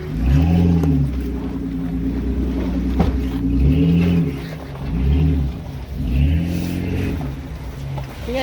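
An off-road vehicle crawls over rocks near Kingman, Arizona, its engine revving up and easing off in repeated swells, loud and close with no talking.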